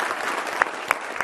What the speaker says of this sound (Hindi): आप अपने लिए भी ताली बजा लीजिए।